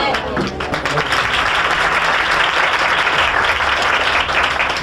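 A church congregation applauds during a sermon, loud sustained clapping from many hands that fills the room steadily throughout.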